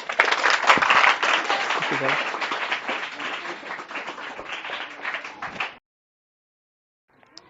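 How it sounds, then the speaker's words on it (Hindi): Audience applause at a session on vegetarianism and the environment, a loud, dense burst of clapping lasting several seconds, then cutting off abruptly into silence before a faint sound returns. "इनके लिए तालियां दीजिए भाई"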